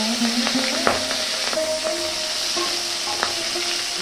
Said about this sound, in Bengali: এই কালো জিরে ফোড়ন দিলাম, কাঁচা লঙ্কা